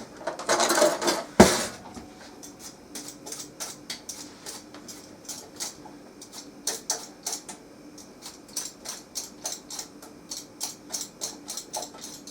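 A root vegetable being peeled for beef and vegetable stew, with a few loud clattering knocks at the start, then a steady run of short, crisp scraping strokes in a quick, even rhythm, close and fairly quiet.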